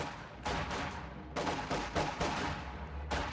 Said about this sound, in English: The bastards are shooting at us!